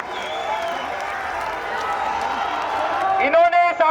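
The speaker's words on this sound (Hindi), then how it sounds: "जोरदार तालियां हो जाए हमारे सिख भाइयों के लिए, जोरदार तालियां हो जाए।" A crowd at a Jantar Mantar protest gathering applauds loudly, a continuous wash of clapping and cheering heard under amplified speech, with a voice rising over the crowd near the end.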